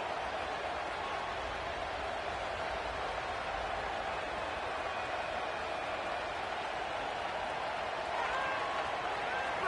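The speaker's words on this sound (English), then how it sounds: "This crowd ready to make its presence known." A stadium crowd in a College Football game with Oregon playing, a steady, dense roar of cheering that holds throughout and swells slightly at the end.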